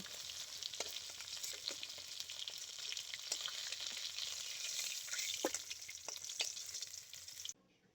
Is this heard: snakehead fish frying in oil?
yes